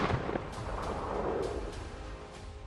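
Sharp gunshot-like cracks fired from a house during a militant operation, a few hard bursts set against a rough, noisy outdoor background with no speech.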